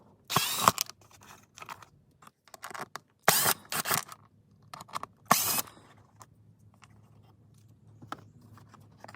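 Three screws being backed out of an armrest cover in a car's center console, heard as sharp, close bursts of ratcheting clicks separated by quiet pauses.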